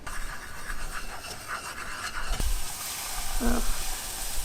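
A whisk scrapes rhythmically through a flour-thickened gravy as milk is slowly poured in, giving soft repeated strokes that give way to a wetter, steadier swish.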